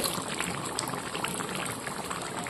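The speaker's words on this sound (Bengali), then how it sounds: "এই দেখো মটনটা হচ্ছে কড়াইয়ে" Mutton cooks in a wok, giving a steady, close bubbling and sizzling that holds even for the whole stretch with no talk over it.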